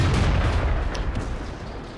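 Tank cannon fire in the World of Tanks video game: a dense, loud, booming blast with a rumbling tail that slowly fades over two seconds, with no voices over it.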